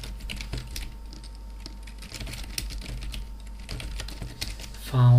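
Keyboard typing while writing code for a VS1005 developer board: irregular clusters of soft, close key clicks over a steady low hum, ending in a louder burst of noise.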